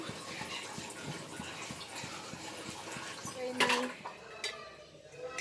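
A utensil scrapes and clinks against a pan while fish curry simmers, light repeated stirring taps at a steady pace with a sharper metallic clatter near the end.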